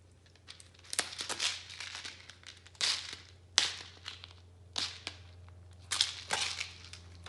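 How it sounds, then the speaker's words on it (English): Packing tape being pulled off a cardboard box makes repeated close, loud crackling rips in short bursts with brief pauses between, over a faint steady hum. "once you get the tape off, you can actually open your box"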